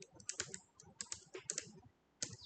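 Close-up clicking of a computer keyboard as someone types text, coming in quick irregular bursts with short pauses, with no one talking.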